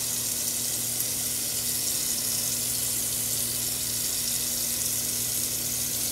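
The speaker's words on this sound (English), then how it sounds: "So I'm about to wash the fish off." Tap water runs steadily from a faucet into a sink while whiting fish are rinsed under it, a constant broadband splash with a low steady hum beneath, continuous and alone throughout.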